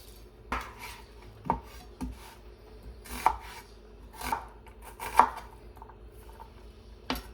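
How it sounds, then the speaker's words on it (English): A knife chops a small yellow onion on a cutting board in sparse, irregular strikes, about eight knocks spaced apart, close and crisp, with no talking. "Next, I'm going to work on chopping the onion."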